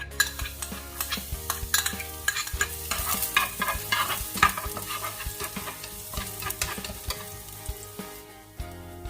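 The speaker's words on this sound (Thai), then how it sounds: "ใส่น้ำมันนะคะประมาณ 1 ช้อนโต๊ะค่ะ และนำกระเทียมลงไปผัดต่อได้เลยค่ะ" Busy sizzling and frying of garlic in about a tablespoon of oil in a hot wok, with constant scraping and stirring clatter, loud and close, no talking.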